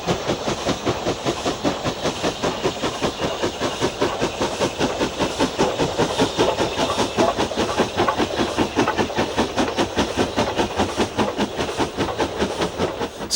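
An LMS 8F steam locomotive working hard up a 1 in 75 gradient in the fells, its rapid, evenly spaced exhaust beats loud and continuous over hiss and rolling wagon noise.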